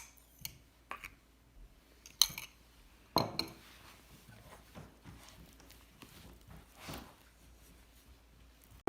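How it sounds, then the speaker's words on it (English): A wooden spoon stirs mashed ripe bananas in a bowl for banana bread, giving scattered soft knocks and clicks against the bowl, faint and irregular, with a few sharper taps. "we're going to mix it with a wooden spoon"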